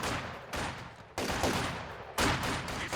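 Three loud, rapid bursts of machine gun fire in Company of Heroes 2 crackle close by, each a dense rattle of shots separated by short gaps.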